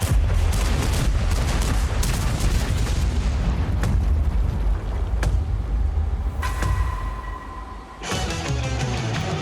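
Tank cannon fire in World of Tanks, several heavy booming shots with sharp onsets over a constant rumbling battle background, one after another at irregular intervals.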